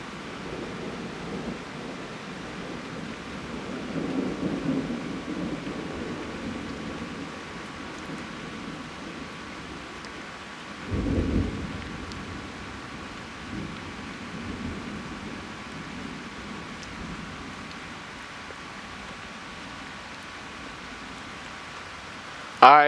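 A thunderstorm in southeastern Pennsylvania, with a steady hiss of rain and a distant rumble of thunder rising midway, low and fairly faint.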